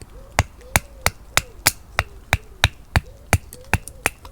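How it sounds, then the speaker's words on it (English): Knife blade batoned with a wooden stick used as a hammer, a crisp series of about twelve evenly spaced sharp wooden knocks, close and loud. "Just gives you using a good stick as a bit of a hammer."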